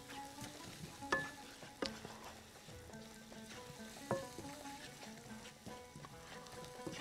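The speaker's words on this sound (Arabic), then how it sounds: "لازم اعمل البصلايه المحمره بتاعه الكشري." Onions frying in a pan until browned for koshari, with a steady close sizzle and several sharp stirring knocks from a utensil against the pan.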